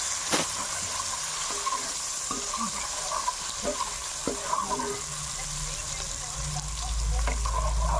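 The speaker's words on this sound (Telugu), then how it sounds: "ఇలా ఆ రొయ్యల్ని ఫ్రై చేసుకోవాలన్నమాట ఇలా ఆయిల్లో" Prawns frying in hot oil with turmeric in a home kitchen pan, a steady soft sizzle with occasional stirring clicks and a louder low rumble toward the end.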